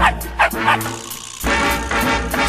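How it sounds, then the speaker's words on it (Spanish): A dog barks in short repeated yips and bow-wows, loud and close, over a steady bed of music. "Desde ese momento dejó de hablar y ahora hace un ruido extraño que todos llaman ladrar"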